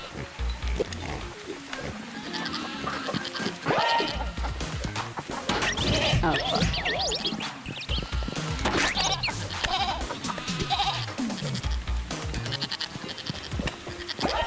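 A goat bleats in the video game Moving Out 2, buried in a dense, continuous wash of game music, crashes and effects.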